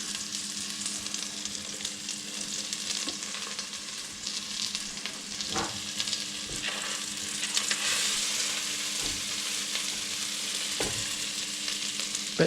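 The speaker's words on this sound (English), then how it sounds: "Oh, that's sputtering." Butter chicken ingredients frying in a pan, a continuous bright sizzle with sporadic sputtering pops and occasional utensil knocks, close and fairly loud without speech.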